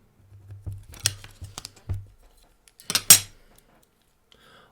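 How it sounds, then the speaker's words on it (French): Scissors snip through paper while cutting out a circle, a string of close, quiet crisp cuts with small blade clicks spaced irregularly between pauses, no talking. "Ensuite, prenez vos ciseaux, ici présents, et commencez à découper votre cercle."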